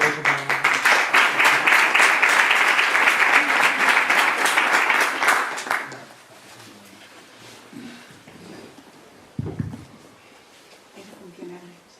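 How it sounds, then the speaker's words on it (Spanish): Audience applause at a book presentation rings out loudly for about six seconds, then stops abruptly, leaving a quiet room with faint murmurs and a brief thump. "Un aplauso para..."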